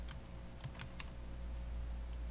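Light keystrokes on a computer keyboard as a username is entered, a handful of soft, quick taps over a steady background hum, faint and close, with no talking.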